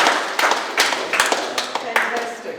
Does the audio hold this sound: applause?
yes